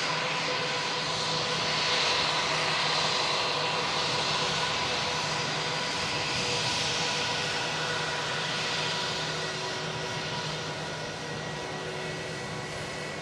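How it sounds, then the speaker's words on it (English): A Lufthansa Airbus A321 airliner roars past, jet engines peaking loud early then easing gradually as it moves away, with steady tonal whine under the broadband rush. "Beautiful Lufthansa"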